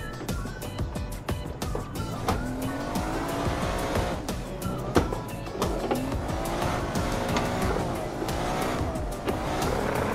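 A Nissan 180SX drifting in Assetto Corsa, with its engine revving hard as the tires squeal continuously through a spin-out, loud and close with no one speaking.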